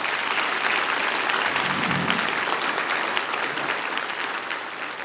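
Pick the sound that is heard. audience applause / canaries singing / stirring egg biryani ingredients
audience applause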